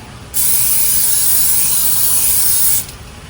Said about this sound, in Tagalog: Tapos, sprayhan natin siya ng oil.